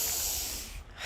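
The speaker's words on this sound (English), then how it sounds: "I'm trying to sniffle away from the microphone." A person sniffles quietly away from the microphone, a breathy hiss lasting about a second, with a second brief intake of air at the end.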